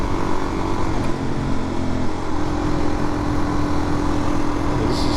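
A Suzuki DRZ400 dirt bike fitted with street rims and tires, its engine droning steadily and loudly throughout the ride, with wind rush constant over the motor.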